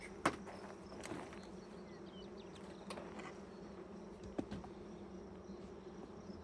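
Honeybees drone quietly in a Langstroth hive as it is opened for inspection. The faint, steady hum is broken by a few soft knocks and clicks from handling the frames, and no one speaks.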